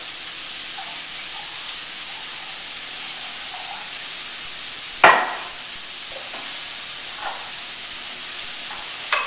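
White wine poured into a hot pan to deglaze it after cooking, giving a steady hiss and sizzle with one sharp clatter midway and a few faint stirring scrapes.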